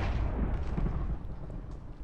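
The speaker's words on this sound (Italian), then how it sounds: "Ho sentito una brutta esplosione." A Minecraft explosion during a Bedwars match with lucky blocks, heard as a low, rumbling boom that fills the opening second and then fades into a softer decaying rumble, with no voices over it.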